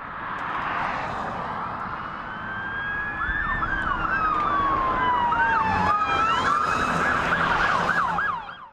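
Illinois State Police car sirens during a high-speed pursuit on I-57, a loud, close wailing siren that sweeps up and down continuously, with no talk.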